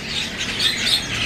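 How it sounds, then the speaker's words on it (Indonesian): Bird chirps from a young cicak ranting, a songbird kept and sold among caged birds at a bird market, repeating quickly and steadily close by over a busy, noisy background. "Ini ada burung cicak ranting"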